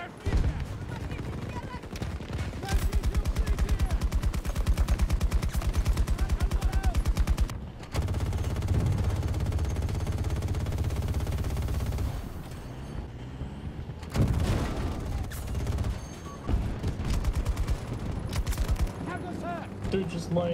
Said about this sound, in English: Hostiles are shooting Alpha 2.